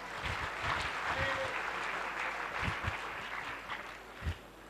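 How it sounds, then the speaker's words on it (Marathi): An audience at a village gathering for two goat-farm entrepreneurs in Barshi gives a round of welcoming applause, a continuous rustling clatter with a few sharper claps standing out, recorded from within the crowd. "जोरदार टाळ्या वाजवून स्वागत करूया."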